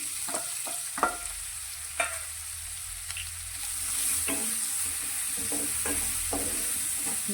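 Finely chopped green and dry onions sauté in oil over a medium gas flame, giving a soft, steady sizzle with occasional clicks from a stirring spoon against the pan.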